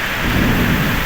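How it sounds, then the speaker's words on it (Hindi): Torrential rain pours continuously during a thunderstorm, a loud unbroken wash of rain noise with deep rumbling beneath it. "देखो कि जोर वर्षा"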